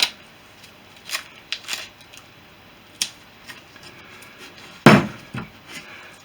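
Masking tape is pulled off the roll and pressed down in a firewall build area, giving sharp, close rips and crackles in short separate bursts, one louder tearing snap near the end, with quiet gaps between.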